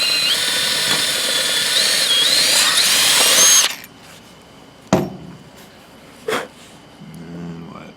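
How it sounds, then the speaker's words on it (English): A drill fitted with a 1/16 inch bit bores into a wooden stick during canjo assembly, giving a loud, high whine for several seconds that then cuts off, followed by a few sharp knocks and clinks. "we're going to use our 1/16 inch drill bit, and we're going to drill through that into the stick"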